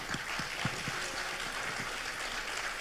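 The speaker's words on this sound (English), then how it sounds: "A round of applause for our speakers." Applause from a conference audience at a publishers congress, a soft, steady wash of clapping heard from a distance with no voices.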